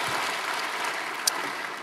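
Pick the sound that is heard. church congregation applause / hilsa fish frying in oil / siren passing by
church congregation applause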